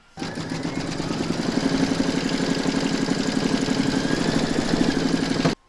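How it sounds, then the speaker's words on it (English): An embroidery machine stitching fabric in the hoop, a steady, close mechanical whirr with fast rhythmic needle pulses running continuously until it stops abruptly. "Pop your hoop back into your machine and stitch round number 5 to secure it"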